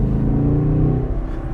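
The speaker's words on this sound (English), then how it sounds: "press the starter button, the way that it roars into life is just a wonderful way to start your morning" A Holden Commodore SS V Redline V8 roars into life at start-up, a loud, close, deep rumbling engine note that swells and holds steady before easing slightly, with no talking.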